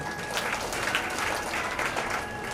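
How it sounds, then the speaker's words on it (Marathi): An audience at a women's association cultural gathering gives sustained, fairly distant applause, a dense continuous patter of many hands clapping together. "त्याबद्दल खरोखर गदिमांसाठी आपण टाळ्या वाजवाव्या"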